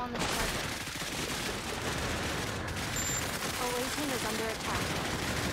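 An airstrike hits in the Cepheus Protocol war game, a dense, sustained barrage of rapid explosive blasts and gunfire-like cracks rolling on without pause, loud and near.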